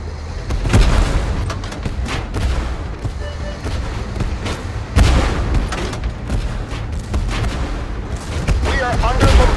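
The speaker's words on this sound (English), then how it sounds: "We are under bombardment!" Tank artillery bombardment in Tank Force, a 3v3 online battle: heavy booming shell impacts and gunfire land repeatedly and loudly throughout, with scattered voice chatter underneath.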